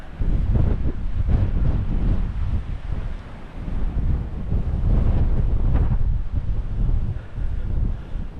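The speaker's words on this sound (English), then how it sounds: "Just a bit too windy to sit on that at the moment." Strong wind buffets the microphone in heavy, rumbling gusts that rise and fall continuously, with faint surf-like roar underneath, on St Aldhelm's Head on the Dorset coast.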